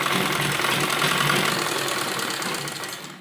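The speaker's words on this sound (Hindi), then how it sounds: "तो दोनों तरफ हम इसी तरह से सिलाई लगाएंगे" Sewing machine running steadily at close range while stitching the side seams of a child's lined kurti, a continuous dense mechanical whir with no pauses.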